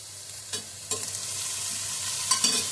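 Capsicum for mixed fried rice sizzles in a pan over a high flame, with a steady hiss broken by a few brief stirring scrapes.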